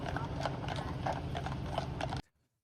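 Police horses in Newark, New Jersey clip-clop steadily on pavement, a quick run of close, fairly loud hoof strikes with a brief whinny-like sound, ending abruptly in silence.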